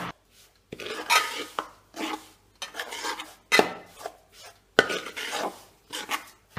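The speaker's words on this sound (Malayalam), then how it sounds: "ചെറിയ തീയിലാണ് അരിപ്പൊടി വറുക്കുന്നത്." Rice flour from ration rice is dry-roasted to a golden yellow in a pan over a low flame, and a spoon stirs it in about six distinct scraping strokes, separated by short quiet gaps.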